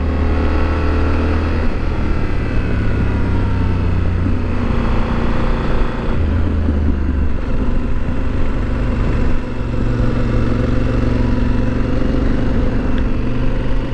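A Yamaha Super Tenere 1200 motorcycle rumbles loudly and continuously while riding through twisty turns, its deep engine drone rising and easing with throttle changes over steady wind noise, with no voices.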